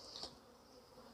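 Honeybees buzz around hive frames being handled at an apiary, a steady faint insect drone that rises briefly near the start and holds low and continuous throughout, with no voices.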